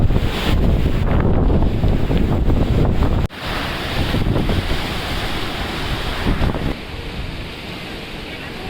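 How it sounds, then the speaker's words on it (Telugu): A strong windstorm with rain batters the mic in loud, roaring gusts that buffet and surge, briefly dropping off before the rush of wind and rain builds again. "మొత్తం అయితే గాలి దుమారం, వర్షం అయితే ఫుల్ అట్లకి వెళ్ళేస్తుంది."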